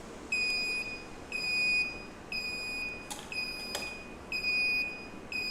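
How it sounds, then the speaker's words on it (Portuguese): An electronic buzzer on a thermistor temperature-alarm lab circuit sounds a steady run of high, piercing beeps in a regular on-off pattern, with a couple of faint clicks in between. "Vou desligar o buzzer para não atrapalhar a gente falar."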